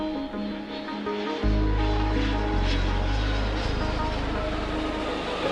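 An airplane taking off in the air-traffic game Mini Airways, a rising engine drone that builds steadily and holds loud with no talk.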